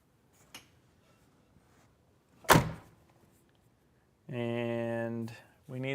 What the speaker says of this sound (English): So we need to shut the door.